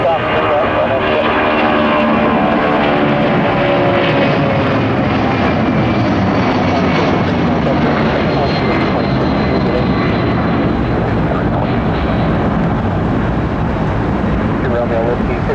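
An airliner takes off at Detroit Metro Airport, its engines a loud, steady, broadband roar that fills the whole span, with an air traffic control radio voice faintly over it.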